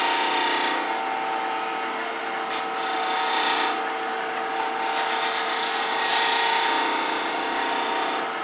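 A wood lathe spins while a tool cuts and scrapes a captive ring goblet, giving a steady whirring rasp with brief louder scraping bursts as the cut varies and no voices over it.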